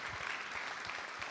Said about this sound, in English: So that within itself deserves a round of applause.